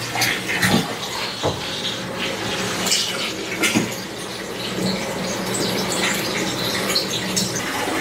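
A Cleartide smart submersible utility sump pump pushes out water under pressure, a continuous gushing, splashing flow with some sharper spatters and knocks, close and steady throughout.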